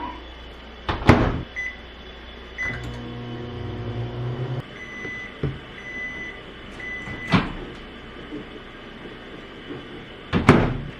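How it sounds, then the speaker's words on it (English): Low steady hum of a running microwave oven with a few sharp clicks and clunks, and a beep near the end. "this goes into the microwave for 30 seconds"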